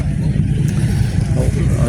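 A Norton Commando motorcycle engine rumbles with a deep, steady, throbbing exhaust note, close by and sustained through the brief moment.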